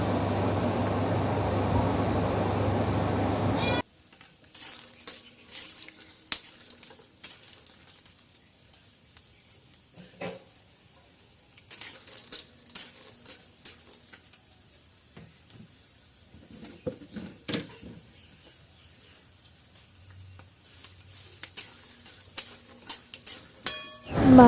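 Peanuts frying in a little oil crackle and pop in scattered bursts, close and fairly quiet, after a short loud stretch of steady noise at the start.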